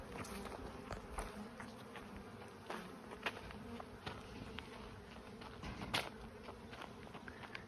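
Bees foraging on sunflowers outdoors, a faint steady buzzing drone with scattered soft rustles and ticks, distant and quiet with no voices.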